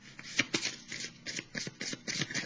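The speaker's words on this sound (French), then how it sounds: "je vais piger une carte" Tarot cards handled and shuffled from a deck, producing a steady series of crisp, papery riffling bursts close to the ear, with no talking.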